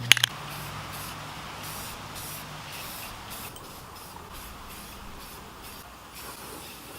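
Rust-Oleum gloss black is sprayed onto a truck bumper in quick hissing bursts, several short passes in a row after a few sharp clicks, close and moderately quiet.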